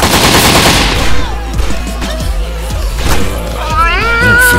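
Gunfire from the video game Postal 3 crackles in rapid bursts across the clip, loud and close, with a voice talking over the shooting.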